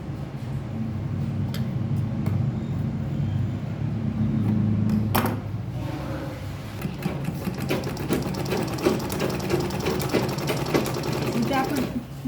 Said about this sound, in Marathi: इथे आपण डबल टिप पण मारू शकते आपण, म्हणजे एकदम परफेक्ट गच राहण्यासाठी.